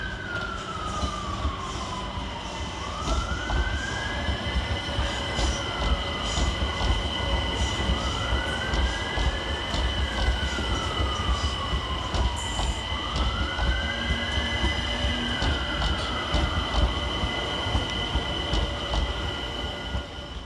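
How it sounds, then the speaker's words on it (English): London Overground electric train 378139 pulls into Clapham Junction, a steady rumble of wheels and traction with repeated rising and falling whines, sustained and close throughout. "next to terminate with a London Overground service from Stratford is 378139"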